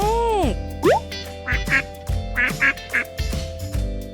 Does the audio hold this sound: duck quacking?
yes